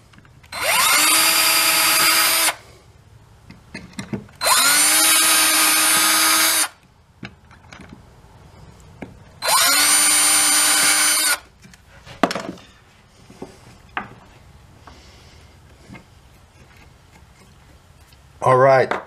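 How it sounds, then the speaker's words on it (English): A power drill bores pilot holes for the tuners into a mail-order wooden guitar neck, running in three sustained loud whining bursts with pauses between, followed by a few quieter handling knocks. "we're doing the pilot holes for the tuners."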